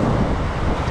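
Steady wind buffeting the microphone outdoors by choppy water, a loud continuous rumble with no pauses and no voices.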